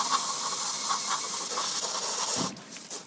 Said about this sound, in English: We'll use brake cleaner